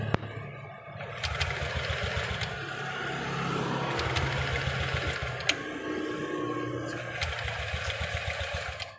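A Honda BeAT scooter showing fault code 7 starts and idles with a steady buzzing putter, close and continuous, while someone talks over it.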